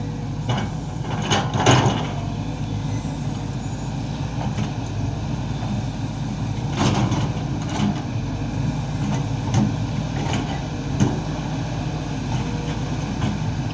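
A Sany SY20C mini excavator works a dirt bank while clearing rows for a durian planting, its engine a steady loud rumble with occasional clanks and scrapes of the bucket, no voices.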